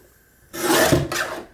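A paper trimmer slicing through card stock for paper art cards: a single close rasping cut lasting about a second, with a brief catch midway, in a quiet room.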